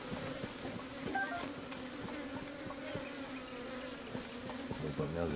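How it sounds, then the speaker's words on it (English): Bees buzz in the video game Tears of the Kingdom, a dense, steady insect drone that stays close and constant, with faint game sounds scattered through it. "But now the bees are bad."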